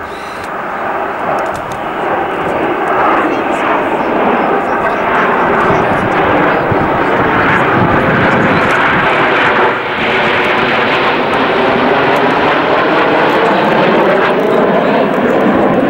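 Red Arrows Hawk jets roar overhead during an air show roll manoeuvre, a loud continuous jet rush that swells and fades, with a commentator talking over it.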